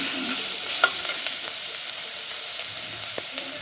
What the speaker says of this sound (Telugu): మీరు ఆవాలు, జీలకర్ర, మినపప్పు ఫస్టే వేయండి